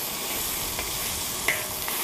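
Dried Sichuan peppercorns and chilies hit hot oil in a wok already holding scallion, ginger, garlic and pickled chilies, giving a steady close-up sizzle with a few faint scrapes, and no voices.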